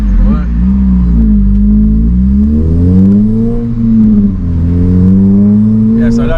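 A Honda Civic FN2 Type R engine runs flat out on a dyno, loud and close, its droning pitch climbing, dipping briefly at a gear change, then climbing again.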